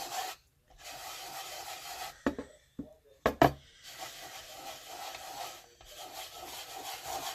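Wax being rubbed in circles into a chalky-painted tray top, a soft steady scrubbing with a few knocks partway through, close and quiet, alone without speech.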